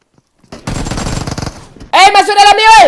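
Automatic gunfire from the video game Free Fire, a burst of rapid shots running about a second, then a loud tonal in-game sound or shout follows.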